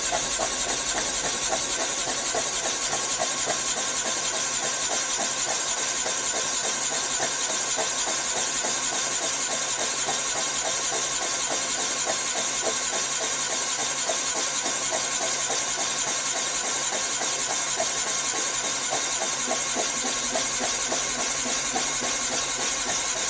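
A 1983 Honda GL650 engine is spun over on the starter for a compression check, giving a steady, continuous mechanical whirr with a rapid rhythmic chug and hiss throughout, close and unbroken.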